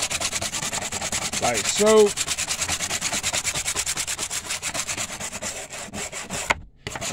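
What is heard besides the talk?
brushing trim restorer into faded black bumper trim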